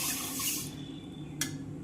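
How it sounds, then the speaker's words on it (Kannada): Water pours briefly into a heavy-bottomed kadai with a close splashing rush that stops after a moment, followed by a faint clink. "ಈಗ ನೀರು ಹಾಕ್ತಾನು."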